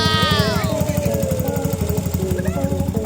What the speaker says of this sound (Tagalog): motorsiklo na may turbo